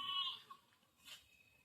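A goat with something tied inside its mouth, on a farm as rain approaches, gives a short faint bleat at the start, followed by quieter rustling and a brief soft breathy noise.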